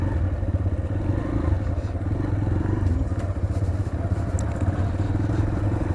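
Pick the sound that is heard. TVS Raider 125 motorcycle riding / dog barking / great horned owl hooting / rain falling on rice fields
TVS Raider 125 motorcycle riding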